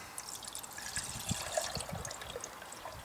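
Water is poured into a Klean Kanteen bottle, giving a soft trickling, gurgling stream with small drips, close but quiet over a few seconds.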